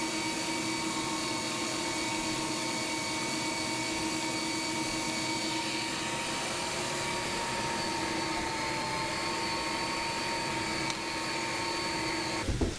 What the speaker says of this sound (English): So we're going to grind all the green tomatoes and tomatillos, and actually the garlic and onion, after it's been sauteed,